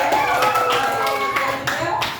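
A classroom of students claps together in brief, scattered applause lasting a couple of seconds, with faint voices mixed into the patter.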